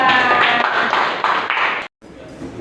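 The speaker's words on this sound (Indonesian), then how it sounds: "Tepuk tangan untuk kita semua." A school class clapping their hands together in a classroom, bursts of close, lively clapping in several waves that stop abruptly, then quieter room noise follows.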